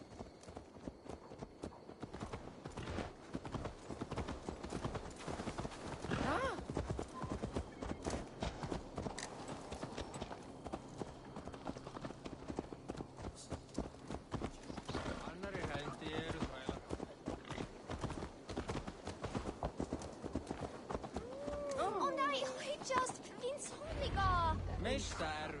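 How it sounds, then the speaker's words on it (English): Horse hooves clip-clop steadily at a walking pace in the video game Assassin's Creed Valhalla, moderately close under a bed of game ambience and music. "Let's return the horse."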